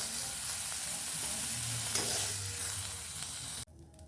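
Prawns fry in hot oil in a pan, a close, steady sizzle with faint stirring scrapes that cuts off sharply near the end, leaving quiet room noise.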